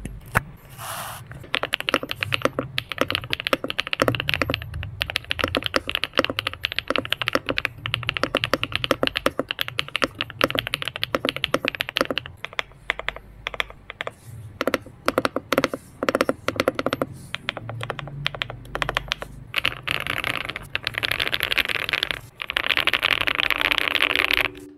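Sustained typing on a Cidoo Stellar ABM081 mechanical keyboard with Zebra switches and Epomaker Smokey keycaps, dense clacky keystrokes in fast irregular bursts, close and loud, with no talking.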